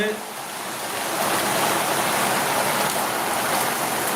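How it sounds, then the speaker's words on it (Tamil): Heavy rain pours down steadily as a dense, even hiss that swells slightly after the first second and holds loud and close throughout, with no other sounds standing out. "அது ஒரு நேரம் நல்ல மழை பாருங்க பிரித்து மேய்ந்து கொண்டு இருக்கிறது"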